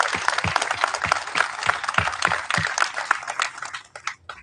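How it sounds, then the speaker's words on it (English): A crowd at a military change of command ceremony at Womack Army Medical Center applauds steadily for several seconds, the clapping thinning out and fading toward the end. "Round of applause for her, ladies and gentlemen."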